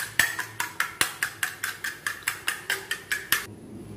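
An egg, sugar and milk mixture is beaten in a bowl, a steady series of about fourteen sharp, close clinks from a utensil striking the bowl at an even brisk pace, with no talk.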